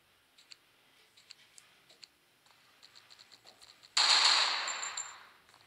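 Gunfire in the mobile game The Sun beta: a run of sharp, evenly spaced single shots, then a sudden loud sustained burst that fades out, with no talking.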